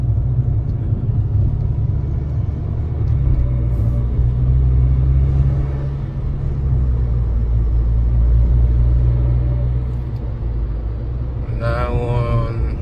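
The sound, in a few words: 2006 Volkswagen Golf GTI engine and road noise during test drive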